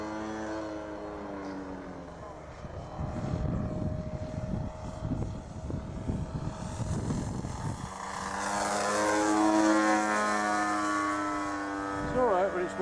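Seagull Edge 540 RC aerobatic plane with its engine droning steadily in flight, the pitch rising and falling as it manoeuvres at a moderate distance outdoors.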